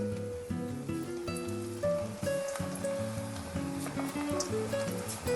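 Cabbage pakodi fritters frying in hot oil in a kadai, a steady crackling, rain-like sizzle running throughout beneath loud melodic background music.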